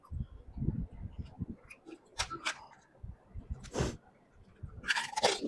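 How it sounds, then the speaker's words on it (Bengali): Someone bites and chews crunchy fuchka (pani puri) in quick close-up bursts, with sharp crackling crunches spread across the moment and a few louder snaps near the end, no talking. "এখন হচ্ছে আমার বর ফুচকা খাবে"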